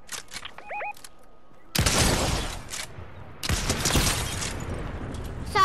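Gunfire in the video game Fortnite: two loud, sharp bursts of shots, each followed by a rattling, decaying spray of impacts, with brief quieter gaps and small beeps between.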